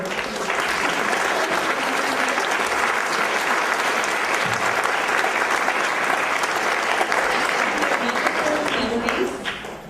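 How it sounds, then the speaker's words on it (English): Dense, steady audience applause fills a silver jubilee celebration hall for about ten seconds, loud and even throughout before tapering off right at the end. "please give a big round of applause"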